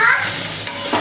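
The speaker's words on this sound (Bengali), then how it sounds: "আগেই পেঁয়াজ রসুন ভাজা শুরু করে দিয়েছি।" Onion and garlic fry in a pan for a brief moment, a close sizzling hiss with a soft stirring scrape.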